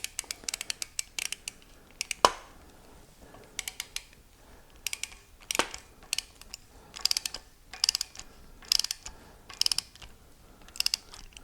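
Pipe plug being threaded and tightened into an Olds 455 engine block, quiet close clicks and metallic ratcheting taps in irregular clusters, with a few sharper ticks.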